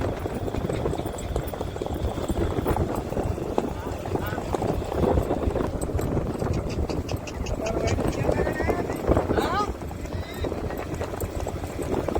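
Horse hooves on a race practice track, with a continuous run of clip-clopping and a busy rumble of movement throughout, mixed with voices and some chirpy high sounds near the end.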